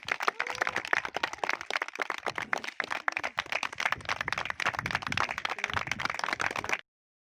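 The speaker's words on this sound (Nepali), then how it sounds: "उहाँहरू आउँदै गर्दा हामी जोरदार ताली बजाउनेछौँ" A church congregation in Tulsipur claps loudly to welcome arriving guests, a dense, sustained round of applause from many hands that fills the room, then cuts off abruptly.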